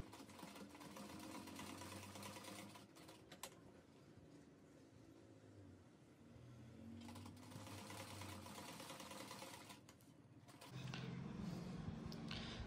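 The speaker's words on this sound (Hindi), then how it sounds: "अब हम यहाँ से सिलाई मशीन के साथ टाका लगाना शुरू कर देते हैं।" A sewing machine runs steadily while stitching a small waistband casing on a Laddu Gopal dress, its motor whirring continuously with a short pause and a louder stretch of stitching at the end, and no talk.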